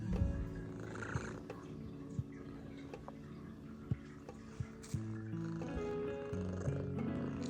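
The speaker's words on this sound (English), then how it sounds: "He's a purry boy." A domestic cat purrs close and soft in a quiet home, a low continuous rumble dotted with small clicks and rustles.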